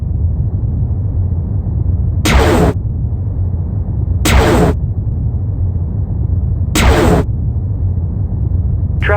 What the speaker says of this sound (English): Energy damping beam.